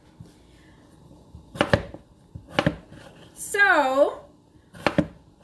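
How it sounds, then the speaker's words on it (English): A kitchen knife chops through an unpeeled potato on a board, four or five crisp separate cuts spaced about a second apart and close by, with a brief spoken word between them. "I'm going to cut this potato. I'm not even going to bother to peel it."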